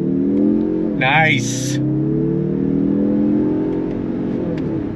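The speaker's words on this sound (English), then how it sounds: "we're gonna accelerate from a dead stop here" A 2024 Mazda 3 Turbo AWD sedan pulls away from a dead stop in first gear, its engine note rising steadily and droning close by. A brief spoken word comes over the start of the acceleration.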